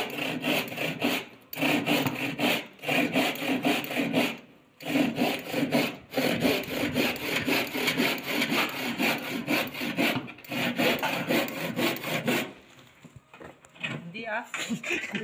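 A hand saw rasps through wood for ceiling joists in steady back-and-forth strokes, brief pauses between runs, with a voice talking quietly near the end.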